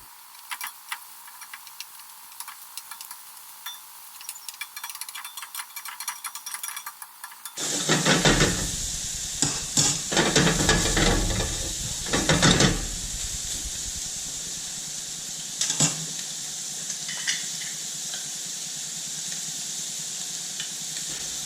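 Shrimp frying in a pan with browned bits on the bottom, crackling and sizzling loudly as they are turned, a quieter ticking before the burst, then a steady hiss continuing close by.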